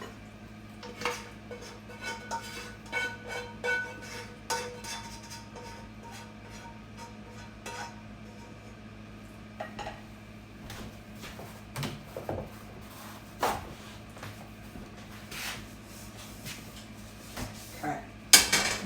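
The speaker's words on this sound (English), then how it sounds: "now I'm going to put the vegetables and pasta sauce into here" Vegetables and pasta sauce go into a pan for an Italian ground beef and veggie bake, with irregular metal clanks and clinks of a utensil against cookware, scattered and moderately close, without talk.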